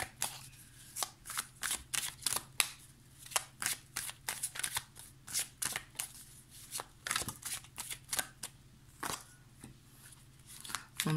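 Tarot cards being shuffled by hand, a close series of quick riffling bursts and soft slaps repeating irregularly over a quiet background.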